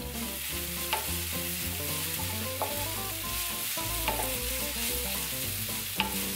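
Lobster pieces dusted with chili powder are stir-fried in a pan, giving a continuous soft sizzle with occasional scraping stirs, set under a steady musical backing.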